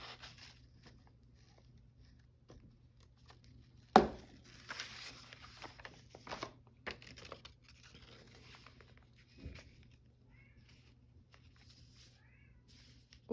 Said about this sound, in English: I don't know if you can hear the cat yelling.